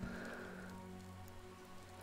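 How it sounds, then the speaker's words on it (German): Rain begins falling in the VR voxel game cyubeVR, a steady soft patter of drops on surfaces with a low ambient hum underneath, continuous and even throughout, no talking. "Oh, es fängt an mit Regnen."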